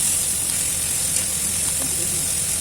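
Chopped vegetables frying and being stirred with spices in a pan, a steady loud sizzle with soft scraping of stirring throughout, no talk.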